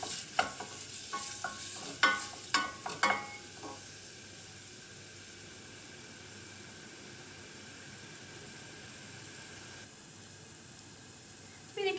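Onions sizzle in hot oil while a utensil clatters against the pot several times early on, then a steady soft frying hiss continues.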